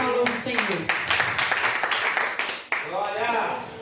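Church congregation clapping in steady rhythmic bursts during a service, fairly loud and close, with a voice speaking over the applause.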